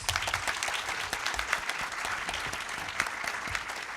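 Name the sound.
audience applause for panelists at PAX West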